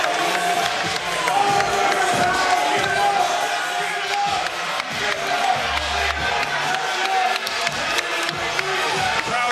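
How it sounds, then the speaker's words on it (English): Boxing crowd roaring and cheering as a bout heads into an overtime round, a loud continuous wall of arena noise with scattered shouts and thuds, commentators talking over it. "The crowd is erupting right now."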